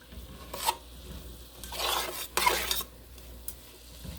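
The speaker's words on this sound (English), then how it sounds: "Let's stir that up real well." Deer chili meat being stirred in a hot pot over medium-low heat, with scraping spoon strokes in a few bursts around a faint sizzle and no talking.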